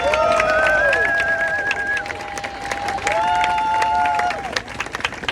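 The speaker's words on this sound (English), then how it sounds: "Can we give him a round of applause?" Crowd applause and cheering at an outdoor counterprotest, with clapping and scattered shouts under sustained tonal whistles or sirens that rise and fall across the few seconds.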